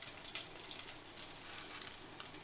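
Mustard seeds and cumin crackling in hot oil in a home kitchen pan, a faint steady sizzle with small irregular pops, no one talking over it.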